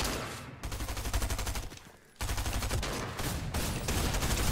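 Rapid bursts of automatic gunfire in the video game Fortnite, loud and close, with a brief lull before the shooting resumes and continues steadily.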